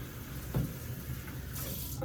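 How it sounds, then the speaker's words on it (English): Rinse water from a basin poured into a sink during perineal care, a short steady splashing stream with a brief louder gush near the start and no talking. "I'm going to pour the rinse water into the sink."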